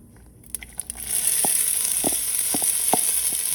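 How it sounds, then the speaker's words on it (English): A few clatters as chopped ingredients for a South Indian chicken curry drop into a hot pan, then a loud continuous sizzle with occasional soft knocks of stirring. "you're gonna wanna add all that stuff that we cut up before, and you should hear a sizzle when it hits"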